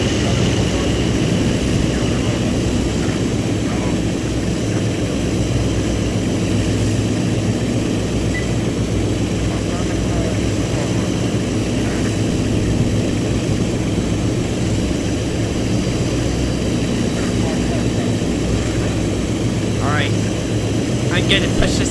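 DE 24000 diesel locomotive engine pushed to full power in a train simulator game on the Taurus Mountains Toros Express route, a loud continuous engine roar and rumble holding steady throughout.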